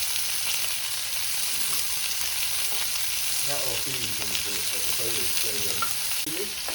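Tomatoes, garlic and ginger frying on a restaurant griddle give a steady loud sizzle, with scraping and stirring strokes in a clattering rhythm through the second half.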